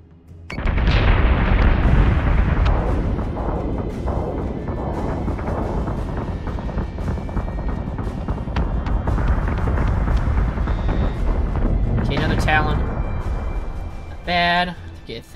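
Space fleet battle in the game Battlestar Galactica: Deadlock: continuous heavy booming gunfire and rumbling explosions fill the mix, loud and dense, easing slightly midway, with brief chirping sound effects near the end.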